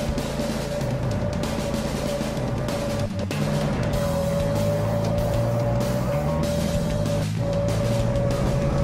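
A riding lawn mower's engine drones steadily and loudly throughout as it is driven and backed into a space marked by cones during a timed competition.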